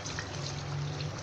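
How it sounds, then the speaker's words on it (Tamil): Ground coconut masala paste pours into a pot of mutton curry, a soft, brief liquid glug and trickle heard close up and alone. "தேங்காய் மசால் விழுது ஊற்றிக்கணும்."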